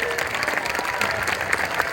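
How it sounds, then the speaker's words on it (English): Crowd at a Tour Down Under cycling team presentation claps steadily in brief, dense applause, fairly close and continuous. "Ladies and gentlemen, a big round of applause for this guy"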